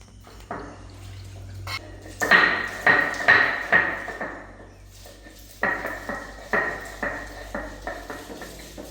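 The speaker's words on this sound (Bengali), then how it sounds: "এখন আমি মশলাগুলো বেটে নেব" Spices pounded into a paste for chicken with a stone or pestle, heard as a series of sharp, close knocks in two clustered bursts separated by a short pause, with no talk.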